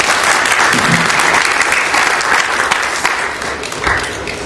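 A church congregation applauds, with dense, loud, sustained clapping from many hands that fills the whole stretch and eases only slightly near the end.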